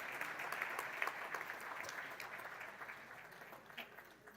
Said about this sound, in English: please join me in extending a huge round of applause to our esteemed chief guest